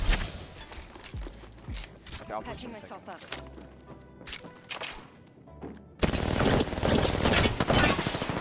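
Bursts of automatic gunfire from missed shots in the Apex Legends battle royale, sharp rapid volleys scattered over a busy mix of game effects, getting louder and denser toward the end.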